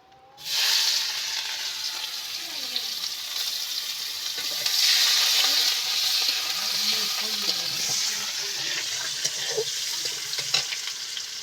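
Vegetables and onions sizzle in hot oil that was used earlier to fry river fish with cardamom, a steady, close hiss with occasional stirring scrapes throughout and no voices.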